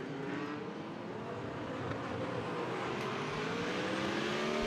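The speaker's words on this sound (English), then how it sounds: "coming down for the first chicane of Bas Linders" GT race car in the Blancpain Endurance Series at Monza, heading toward the first chicane, its engine droning steadily and loud with rising pitch sweeps as it approaches, no voices.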